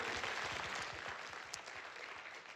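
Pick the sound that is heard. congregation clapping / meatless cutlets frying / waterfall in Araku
congregation clapping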